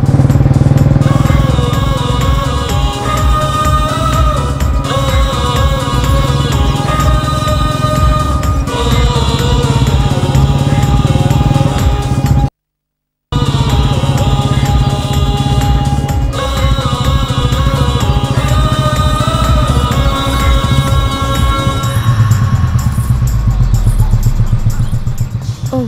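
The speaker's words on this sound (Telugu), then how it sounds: "ఏంటి జాగింగ్ బైక్ వేసుకెళ్తున్నాడు అనుకుంటున్నారా?" A motorcycle engine runs steadily and loudly, close by, throughout a long stretch with a brief dropout midway, then the engine note drops as the bike passes and moves off at the end.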